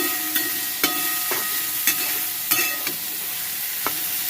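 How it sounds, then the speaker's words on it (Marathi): Soybeans frying in a little oil with cream in a pan, a steady close sizzle broken by sharp clacks of a spoon stirring every half second or so, with no voices. "दोन मिनटं असं परतून घ्यायचं"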